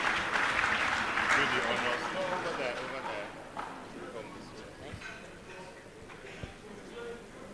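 Audience applause for a teacher receiving a certificate at an award ceremony, broad clapping that starts strong and gradually thins out, with talk over it.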